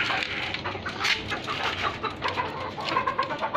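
A caged desi hen clucks close by amid a busy farmyard clamour of other fowl, soft irregular calls rising over a constant rustling background, no speech.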